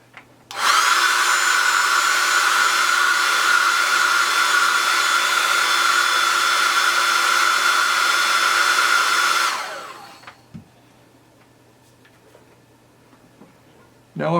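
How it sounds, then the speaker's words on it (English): A small hair dryer drying painted artwork blows with a loud, steady whirring whoosh for about nine seconds before it is switched off and winds down. Near silence follows, broken by faint handling noises. "Then I'm going to dry it with a little hair dryer."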